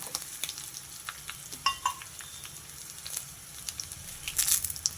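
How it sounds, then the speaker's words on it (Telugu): Dried red chilies and crushed garlic fry in hot oil in a pot, a soft steady sizzle with occasional sharper crackles and pops, close by, with no talking. "ఎండుమిర్చి వేసేసుకున్నా."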